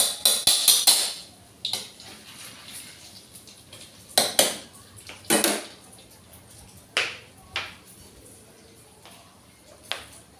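Spoon clinking and clattering against a cup while coffee is stirred, in a series of bright, sharp metallic taps coming in irregular bursts, close and fairly loud with quiet gaps between.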